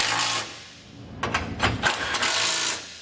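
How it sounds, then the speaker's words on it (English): A 13mm socket ratchet tightens trailer hitch bolts on a 2019 GMC Canyon, with close, quick clicking bursts and rasping over a steady background hum. "we'll grab our 13mm socket again and tighten up the hardware"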